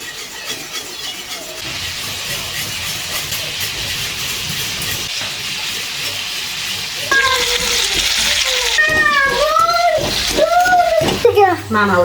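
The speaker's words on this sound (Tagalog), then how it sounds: "Kumulo na yung tubig sa mais." Water boils steadily with a hissing, bubbling roar in a pot of corn; partway through, people begin talking close by over the continuing boil.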